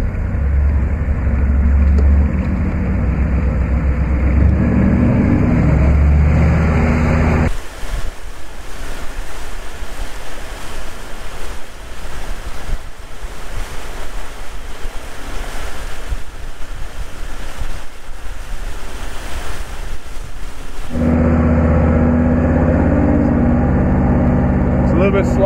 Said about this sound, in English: So we're about to cross some water.